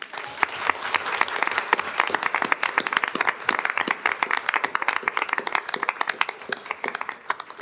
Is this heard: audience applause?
yes